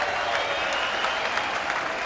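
Hong Kong home crowd applauding at a rugby union match against Japan, a dense, steady wash of clapping and crowd noise that fills the whole stretch at a fairly even level.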